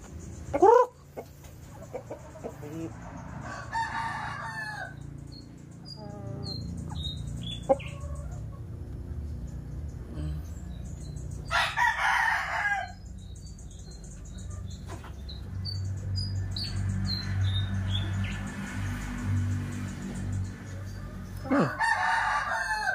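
Several Japanese Shamo roosters crow loudly at intervals, with hens clucking and softer chirping birds in the background, mostly without talk.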